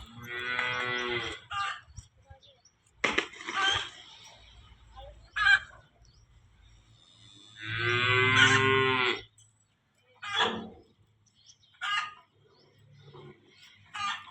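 A buffalo in a cattle shed lows loudly and close by, several long moos separated by pauses, with a rooster crowing faintly in the background and short shuffling and knocking noises between calls.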